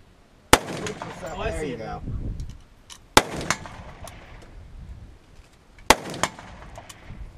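A Thompson submachine gun fires three sharp, loud single shots a few seconds apart outdoors, each followed by a short echo, while people talk between the shots.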